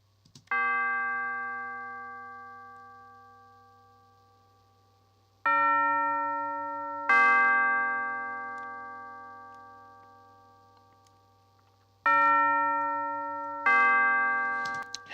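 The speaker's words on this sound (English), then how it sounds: "Let's just hear the tubular bell by itself." Five tubular bell strikes ring out with a pause between each, each tone clear and metallic and slowly fading, over a faint low hum.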